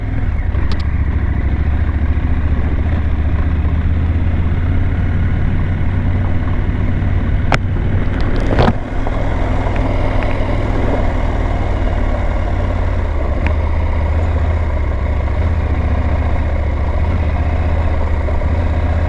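A Husqvarna Norden 901 motorcycle engine drones steadily and loudly while riding on a narrow road. A low, continuous rumble with wind noise runs throughout, broken only by a couple of brief clicks.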